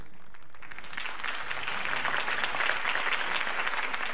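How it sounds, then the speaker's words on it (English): Crowd applause at a political campaign rally in the Batman Telltale Series video game, a dense, steady wash of many clapping hands sustained throughout at moderate volume, with no speech over it. "could have heard that applause"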